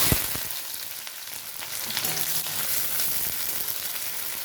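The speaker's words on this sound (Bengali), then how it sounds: "দিয়ে দিচ্ছি কুচানো পেঁয়াজ" Chopped onion frying in mustard oil in a wok, a continuous close sizzle with a few sharp clicks of a utensil against the pan, alone without speech.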